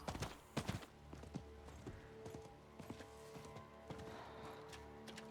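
Faint horse hooves in Diablo 4 clip-clopping in an uneven walking rhythm, with sharp clacks and a low steady hum underneath.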